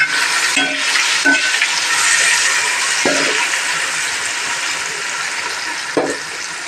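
Tomatoes fry in a masala for jackfruit biryani, making a loud, continuous sizzle broken by four soft knocks of a utensil against the pan.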